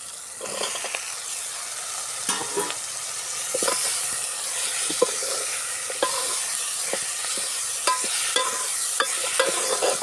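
Onions and tomatoes fry in a pan at a village cooking setting, a steady loud sizzle with frequent clinks and scrapes of a spoon stirring against the pan, close by and without talk.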